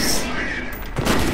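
Shotgun fire in the video game F.E.A.R., a loud, dense barrage of blasts filling the whole moment, with a fresh heavy shot hitting near the end, mixed with the player's voice.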